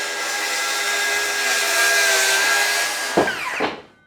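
A Dewalt circular saw rips through a piece of wood, its high whining cut held steady and loud for a few seconds before the blade breaks free and spins down to quiet.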